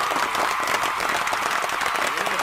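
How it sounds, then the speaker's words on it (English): Applause from an audience, a steady crackle of many hands clapping at moderate loudness throughout, with no voices over it. "Applause"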